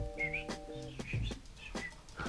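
Indoor birds chirp and whistle in short, repeated tweets and warbles, close and fairly clear, with a few overlapping calls and no talking.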